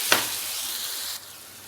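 Water poured into a hot pot of stuffed peppers, giving a sharp splash at the start and then a steady close sizzle and hiss that drops abruptly quieter near the end.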